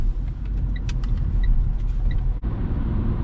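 A Renault Fluence with a 1.5 diesel engine cruising on the road, heard from inside the cabin as a steady low rumble of engine and road noise with faint high ticks, a brief dip near the end.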